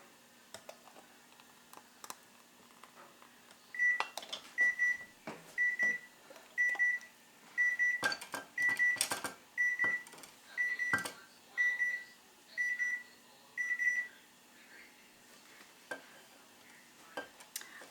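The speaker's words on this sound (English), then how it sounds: "Here's the timer for our bread that's in the oven." A kitchen timer for bread baking in a Dutch oven beeps about a dozen times in a regular, evenly spaced pattern, clear and moderately close, with scattered kitchen clatter and knocks around it.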